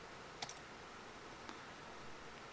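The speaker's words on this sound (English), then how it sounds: "Let me type that in chat" Someone types quietly on a computer keyboard, with a few faint scattered clicks over a low background hiss.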